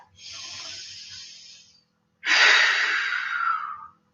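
Two deep full breaths during a yoga flow, a long airy inhale followed after a short pause by a louder, rushing exhale, close and alone.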